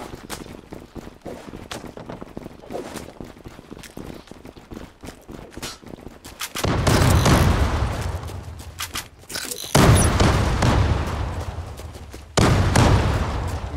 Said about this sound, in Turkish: Bombayı kur ve patlat.